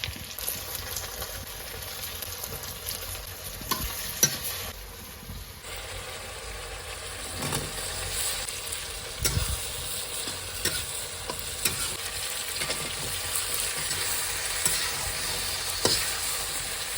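Vegetables stirred and frying in a pan in a village kitchen, a continuous close sizzle with scraping stirs and occasional louder clatters of the spoon against the pan.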